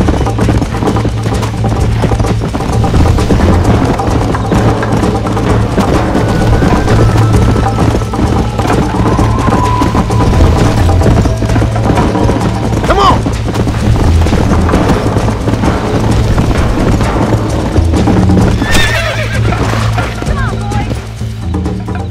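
Horse galloping in the video game Red Dead Redemption 2, a continuous hoofbeat rhythm under loud game music and effects, with characters talking over it throughout.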